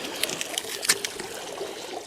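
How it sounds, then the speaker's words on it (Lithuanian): Water trickles and splashes as it drains out of a fish keepnet at a carp fishing competition, a steady close dribble with a few small louder spills. "Nuleidžiam vandenį."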